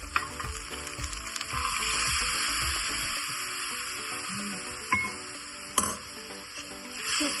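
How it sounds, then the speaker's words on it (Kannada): Chicken masala frying in a pan after a splash of water is added, giving a steady, close sizzle with a few brief clinks and scrapes of stirring. "ಸ್ವಲ್ಪ ನೀರು ಆಡ್ ಮಾಡ್ಕೊಳ್ಳಿ."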